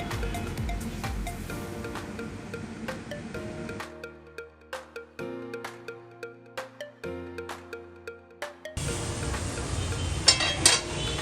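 Sweet dough balls frying in hot oil, browned and being lifted out with metal utensils; steady sizzling gives way to a run of clinks and scrapes against the pan, then loud frying sizzle returns.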